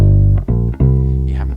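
Bass guitar line played with no gaps between notes, a few deep, loud, sustained notes running straight into one another and rising, with no talk.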